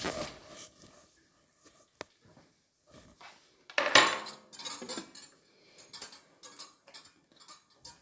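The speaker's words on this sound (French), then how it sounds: "Maintenant, on va mettre le couvercle." A metal lid is set onto a cooking pot, giving a bright clattering clink midway, surrounded by smaller scattered taps and clicks of kitchenware in a quiet room.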